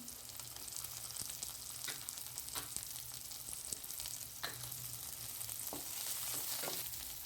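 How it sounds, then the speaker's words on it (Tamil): Onion, ginger, garlic and green chilli sauté in a pan for a paneer gravy, giving a continuous close sizzle with scattered stirring clicks and scrapes throughout, no voices. "வெங்காயம் வந்து நல்லா வதங்கிடுச்சு இஞ்சி போட்டுக்கலாம் பூண்டு"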